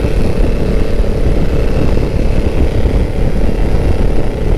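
A bored-up racing motorcycle engine drones loud and steady at speed on a rough road, a continuous low rumble with no pauses.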